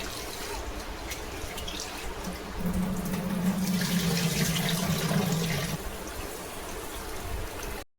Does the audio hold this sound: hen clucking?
no